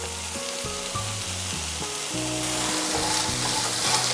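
Onions sautéing in oil with salt for a quail egg roast give a steady, close sizzle, while a musical melody plays over the top.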